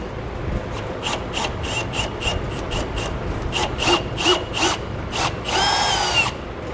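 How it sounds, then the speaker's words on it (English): A power drill drills a hole in metal in a series of short bursts, stopping and starting, ending in a longer, harsher grinding run. "I'm going to drill from the back side out"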